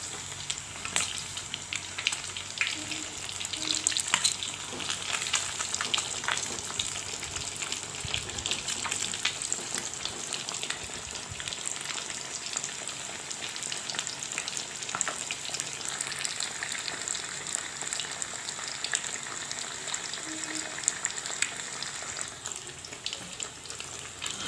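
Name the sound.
fish frying in oil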